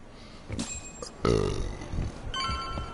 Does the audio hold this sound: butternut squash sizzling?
no